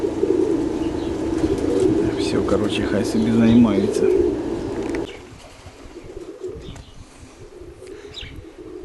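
Pigeons coo softly and repeatedly nearby while a person talks over them, then the cooing drops away into quieter background.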